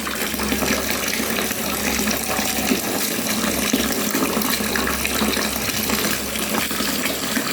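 Tap water gushes steadily into a bathroom tub or sink while a small child bathes, a continuous close, broad splashing flow with no talk over it.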